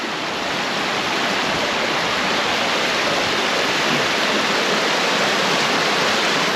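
A flowing beck in Yorkshire runs steadily beside a riverside path, a dense, constant rush of water close by with no pauses and no voices.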